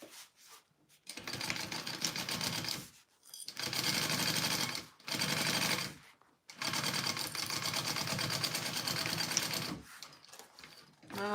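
A sewing machine stitches a Zynah pattern from Kaur Threads in three long runs separated by brief pauses, loud and close, with a steady whirring needle rhythm and a short final burst.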